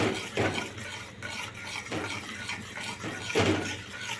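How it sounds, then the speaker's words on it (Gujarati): A spoon repeatedly scrapes a pan while sugar melts and browns for mava kulfi, making slow rhythmic scraping strokes about once a second over a soft sizzle. "ખાંડનો બ્રાઉન કલર આવે ત્યાં સુધી આપણે હલાવતા રહીશું"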